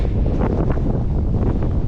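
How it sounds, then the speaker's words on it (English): Strong wind roars and buffets the microphone continuously at a campsite in the Croatian mountains, a dense rushing noise with no voices. "It's very windy."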